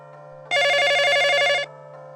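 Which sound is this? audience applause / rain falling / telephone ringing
telephone ringing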